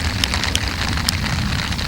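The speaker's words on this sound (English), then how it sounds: "The rain's been on and off all day" Steady rain patters at a lakeside canoe campsite, a close, even hiss with a few sharper drops ticking through, no voices.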